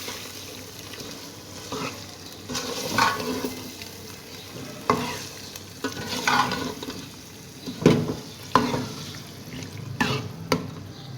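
Spinach and potatoes for aloo palak fry in a pan with a loud, steady sizzle while a spoon stirs through them in uneven scraping bursts and occasional knocks against the pan.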